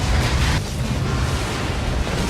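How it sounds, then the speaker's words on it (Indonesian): A bomb blast in an action film, a loud, dense roar that is already at full force and keeps rumbling low and heavy for the whole stretch, with a short dip partway through, and no voices over it. "Beruntung, Quaid dan Melina berhasil kabur tepat waktu sebelum bom meledak."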